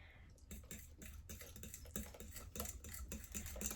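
Whisk or spoon clacking steadily against a bowl while melted butter is worked into banana bread batter, a quick rhythmic scraping and tapping close by with no talking.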